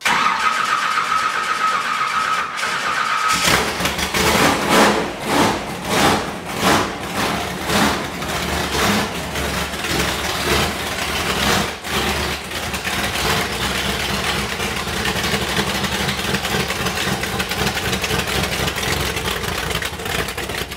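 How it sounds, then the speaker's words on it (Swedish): A 19-year-old Jeep T-Rex with a hugely oversized engine cranks and bursts into life with a loud roar, then revs hard in repeated surging pulses before settling into a rumbling idle close by. "det är en Jeep med en fruktansvärt stor motor i"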